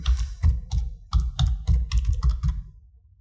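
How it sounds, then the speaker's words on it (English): Keys pressed on a computer keyboard, a quick run of crisp, close clicks in an uneven typing rhythm with no talk over them. "hit F2 on the keyboard to rename"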